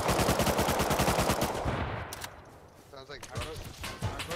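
Heavy M2 machine gun fire in the Rust console game rattles in rapid sustained bursts, loud and close, then tapers into scattered shots and softer game noise toward the end.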